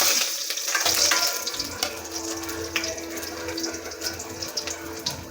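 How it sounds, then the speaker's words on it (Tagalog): Garlic dropped into hot oil sizzles in a dense, steady hiss, loud and close, with a few crackles over a low background rumble. "pag uminit na yung mantika guys, lagay na natin yung bawang"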